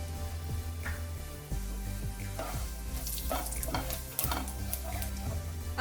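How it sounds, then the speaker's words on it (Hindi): Half a teaspoon of cumin seeds hitting one and a half teaspoons of hot oil in a kadhai, crackling with scattered pops and spatula scrapes over a low steady hum, fairly quiet and close. "फिर उसमें डालेंगे हाफ टीस्पून क्यूमिन सीड।"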